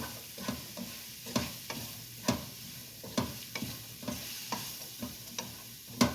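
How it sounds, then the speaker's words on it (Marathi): Radish greens with turmeric and salt sauté in a pan, giving soft, irregular scraping strokes over a faint, steady sizzle. The sound is quiet and close, with no talk. "आणि चांगलं सोते करून घ्या"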